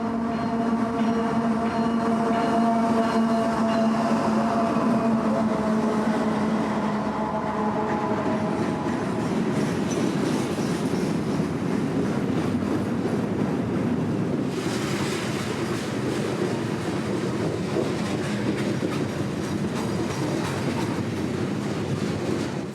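CSX freight train 453, a roughly 5,000-foot consist of auto racks bound for Miami, rolls past at night in South Florida with a steady, loud rumble and clatter of cars throughout, no voices.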